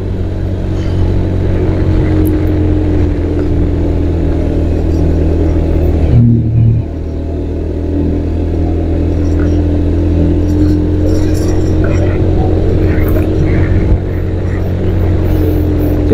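A small low-cc motorcycle carrying a heavy load climbs a steep road through a village toward Mount Telomoyo, its engine droning loud and close with a steady, labouring rumble and a brief dip partway through.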